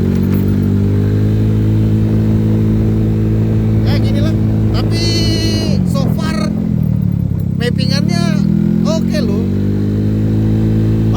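A motorcycle passes on a dark rural road between Sukamakmur and Cibarusah, its engine rising and fading against the steady drone of the recording vehicle's own engine, with people talking over it.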